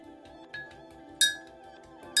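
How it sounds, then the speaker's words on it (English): A large spoon clinks against a large ceramic cup while stirring a face mask mix, with a soft steady swirl and two brighter taps ringing out near the end. "we are going to take the biggest spoon in the house to stir this up"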